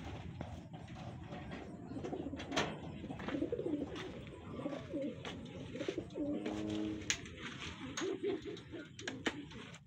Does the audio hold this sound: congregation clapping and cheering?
no